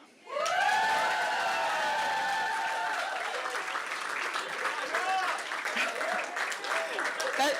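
A big round of applause rises suddenly at an election-night speech and holds steady, many hands clapping with a few cheers scattered through the crowd.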